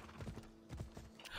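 Horse hooves clip-clopping in the video game Assassin's Creed Odyssey, a quick run of rhythmic mid-close thuds with a faint steady hum beneath, no talk over them.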